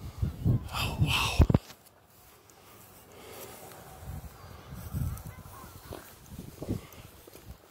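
Large birds honk loudly in a burst of goose-like calls, then fainter scattered honks continue farther off while people talk excitedly outdoors.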